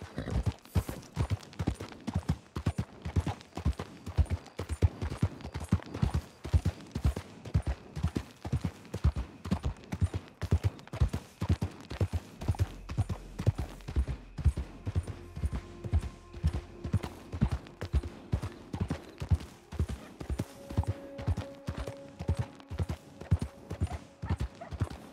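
Horse hooves in Red Dead Online clip-clop in a steady, rhythmic gait for the whole stretch, fairly close and clear, with a few faint tonal game sounds drifting in toward the end.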